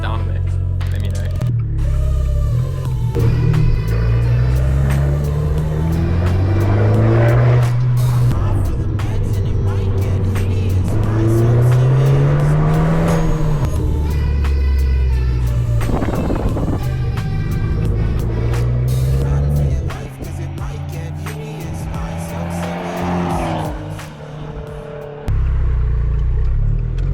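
An Abarth 595 Turismo's engine and exhaust drone and rumble continuously while driving, rising and falling in pitch through gear changes, loud and near throughout.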